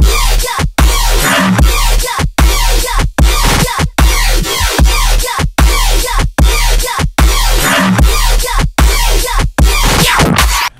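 Serum synth remake of a track with an 808, a loud dense electronic loop with heavy pulsing bass hits and sharp gaps repeating about every second and a half, no voices.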